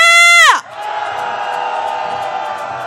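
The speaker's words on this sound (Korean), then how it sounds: "분노의 함성 시작!" A crowd at a candlelight rally in Seoul over the Itaewon disaster and Yoon Suk-yeol's impeachment roars in anger. A sharp falling tonal sweep comes first, then a loud, sustained mass shout.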